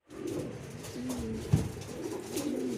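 Racing pigeons in a flying pen give soft, low cooing calls in drawn-out, repeated rolls, close by, with a small knock partway through.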